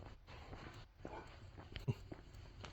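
A dog whimpers softly at close range, with faint breathy whines and a brief sharper yelp near the middle against a quiet room.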